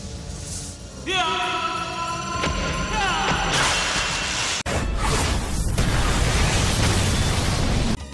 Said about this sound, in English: it seems to me like the explosion would be much more instantaneous and less progressive than that. Something like this.